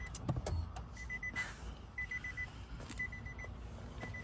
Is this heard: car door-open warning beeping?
yes